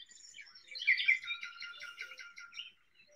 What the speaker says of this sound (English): There's a cuckoo in the background.